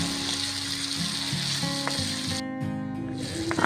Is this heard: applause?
no